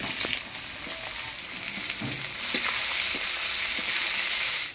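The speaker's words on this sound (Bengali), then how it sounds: "এবার দিয়ে দিব পেঁয়াজ কুচি।" Chopped onion fries in hot oil with dried chili, bay leaf and whole garam masala, giving a steady close crackling sizzle with occasional spoon stirs and no talking.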